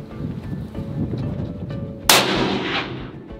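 A single loud rifle shot cracks out during a hunt in Africa, sharp and close, after a stretch of quiet outdoor background, its echo trailing off over the following second.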